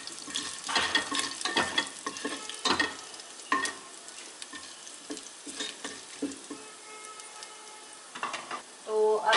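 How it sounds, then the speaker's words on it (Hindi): Ginger and green chilli fry in a pan with a soft, steady sizzle broken by repeated scraping stirs of a spoon, close and fairly quiet. "अदरक को हम बहुत ही हल्का सा भूनेंगे, ज़्यादा नहीं भूनना है हमें।"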